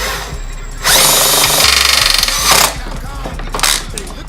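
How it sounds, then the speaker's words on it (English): A power drill drives screws into isolation booth panels in a loud, sustained whir that revs up, holds, then drops away, with gear-ratcheting texture and a few shorter bursts near the end. "make sure you're careful when you're screwing these in"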